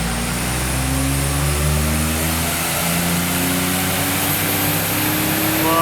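A Mitsubishi Mira's small engine drones on a dynamometer, revving slowly and steadily upward in a long, loud, continuous pull with heavy mechanical and roller noise, no talking.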